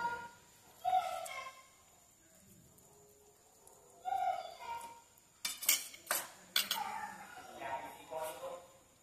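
A spoon stirs fish-fry spices for tilapia in a bowl, with scattered metallic clinks and scrapes against the dish, sparse at first and busier later, between bits of a nearby voice.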